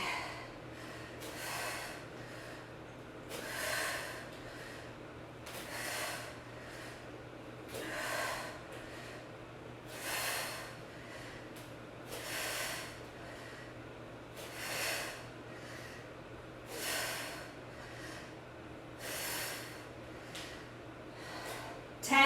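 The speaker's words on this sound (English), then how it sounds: "Breathing." Heavy, rhythmic breathing from a HIIT and matwork session: about ten deep breaths at a steady pace, close and clear, with a low constant hum beneath and no talking.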